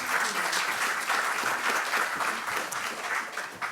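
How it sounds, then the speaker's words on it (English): Audience at a mental health talk applauds to welcome the speaker, a full, steady round of clapping from a crowd that swells and eases slightly across a few seconds. "Round of applause for Dr. Kalidindi."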